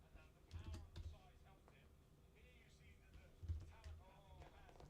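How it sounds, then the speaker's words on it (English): Rapid computer keyboard typing clicks in short bursts sit in the background beneath a man's running play-by-play commentary on a live MMA fight. "Sorry if you guys hear that that typing."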